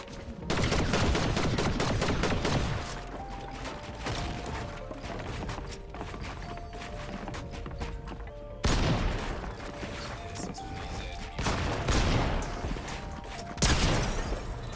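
Heavy gunfire from a first-person shooter match against a suspected aimbot and wallhack cheater, dense loud bursts and rapid shots crowding the whole stretch, with sharp booming blasts that fit shotgun fire.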